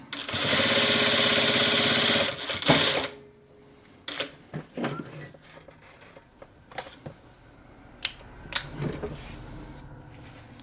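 A Vevor M2 industrial sewing machine stitches in one loud, fast continuous run of about two seconds, then falls quiet apart from scattered clicks, taps and handling noises nearby.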